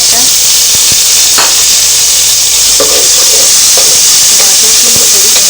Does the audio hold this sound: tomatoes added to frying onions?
yes